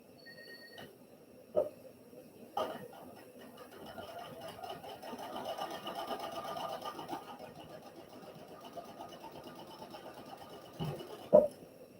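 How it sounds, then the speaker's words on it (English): A sewing machine runs steadily, stitching a quarter-inch seam with a fast mechanical whir, framed by a few knocks and clicks at the start and end. "So I'm going to take it over to the sewing machine"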